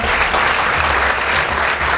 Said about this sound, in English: a round of applause for Hezbon